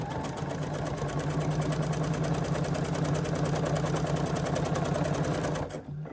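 A sewing machine stitches a quilt project at a steady fast pace, a loud continuous mechanical whir and rapid clatter that runs alone for several seconds before stopping abruptly.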